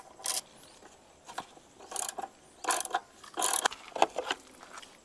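Two nuts come off behind the side cover of a Hero Xpulse 200 4V motorcycle, heard as a series of short, quiet metallic ratcheting and clicking bursts with pauses between them.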